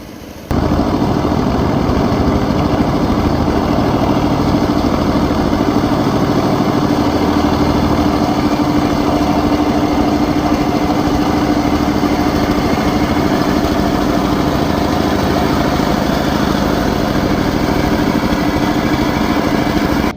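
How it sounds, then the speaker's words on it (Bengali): A homemade machine for cutting water hyacinth and algae, built in Jessore, runs its engine steadily and loudly for the whole stretch, a constant droning hum with no talk over it. "কচুরিপানা ও শ্যাওলা কাটার আজব এক মেশিন আবিষ্কার করে আলোড়ন সৃষ্টি করলেন"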